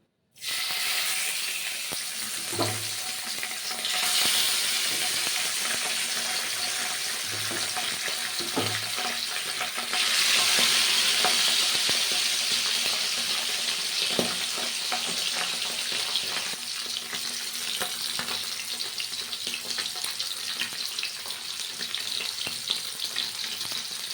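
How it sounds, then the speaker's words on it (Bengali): Continuous crackling sizzle of pabda fish frying in hot oil, growing louder at moments as pieces go in, with occasional thumps and utensil sounds, no talking. "মাছের তেল গরম হয়ে গেছে এবার মাছ ভাজাগুলো দিয়ে দিতে হবে এক এক করে"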